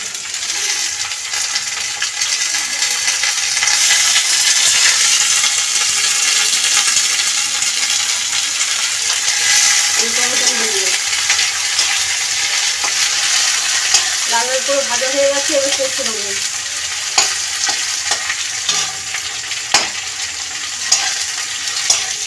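Chopped green chilies and tomatoes frying in hot oil for a restaurant-style tadka, giving a dense steady hiss of sizzling with scattered spoon clinks against the pan and a few brief tonal scrapes midway, all close.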